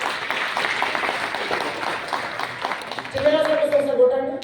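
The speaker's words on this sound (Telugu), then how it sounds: "గౌరీ సార్ కోసం బిగ్ క్లాప్స్." Audience applause, a steady patter of clapping that swells slightly near the end as a voice starts talking over it.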